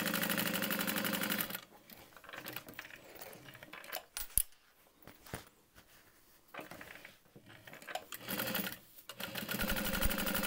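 A sewing machine stitches a structured tote bag in two rapid close runs at the start and the end, with quieter handling clicks and small taps in between.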